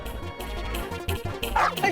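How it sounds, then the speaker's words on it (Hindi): A pet dog lets out a few quick, yappy barks and whimpering yips at close range, in a short, uneven burst. "भौंक क्या रहा है?"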